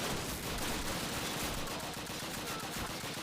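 Dense, continuous gunfire and battle noise from the 2003 video game Call of Duty, a loud unbroken wash of shots with no clear gaps.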